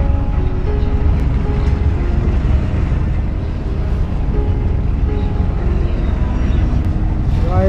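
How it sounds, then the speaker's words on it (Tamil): A small motor boat travels on the Alleppey backwaters in Kerala, with a steady, loud, low engine rumble and wind buffeting the microphone throughout. "போட்டில் இருக்கோம், போட்டில் போயிட்டுருக்கோம்"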